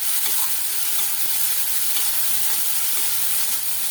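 Masala for green peas masala sautéing in a hot pan, a steady dense sizzle and hiss running unbroken throughout, close and fairly loud, with faint scraping stir clicks scattered through it.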